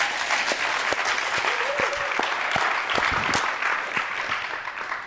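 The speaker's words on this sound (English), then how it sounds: "please get a warm round of applause for Xiaoran Wang and Sergey Gorbaty" Audience applause at a security conference talk, a steady, dense roomful of clapping that runs for about five seconds, with a few sharper claps standing out and no talk over it.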